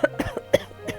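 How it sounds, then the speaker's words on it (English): Several short, close coughs in quick succession inside a Persona 3 Portable game scene, the bursts spaced unevenly over about a second. "Cough."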